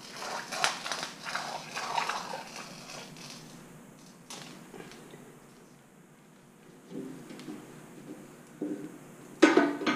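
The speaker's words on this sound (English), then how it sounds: "score the flattest side of the glass" A glass cutter scores the flattest side of a glass piece for a mosaic, producing gritty crunching and scraping strokes that start loud, fade to quiet, then return with a sharp crack near the end.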